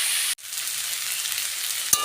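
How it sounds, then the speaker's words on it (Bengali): Cauliflower and potato frying over a low flame in a pan, a soft continuous sizzle heard up close, broken by a brief dropout near the start and a single sharp utensil tap near the end. "আমি কিন্তু নিভা আগুনেই ফুলকপি আলুটা ভাজা করেছি"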